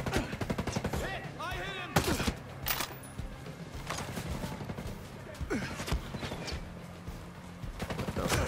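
Rifle shots in Ghost Recon Breakpoint, rapid bursts of sharp cracks in quick succession with several separate salvos, over a steady game background and occasional rustling movement.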